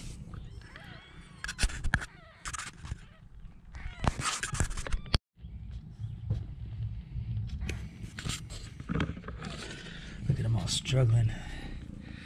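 A tabby mother cat with her ten-day-old kittens, meows and small cries surfacing in bursts among rustling and handling noise, with a person talking nearby throughout.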